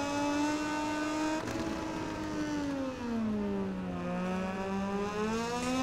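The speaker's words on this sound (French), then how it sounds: "on accélère le plus fort possible ici sans trop faire bouger la roue arrière, sans trop la faire glisser" Motorcycle in the racing video game MotoGP 19 on a Moto2 bike at the Qatar circuit, engine revving hard and steadily climbing in pitch as it accelerates, loud and continuous with no talking.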